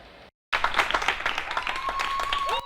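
Spanish people on their balconies applauding health workers during the COVID-19 pandemic, dense sustained clapping from many hands after a brief silence, with a whistle or horn tone rising through it near the end.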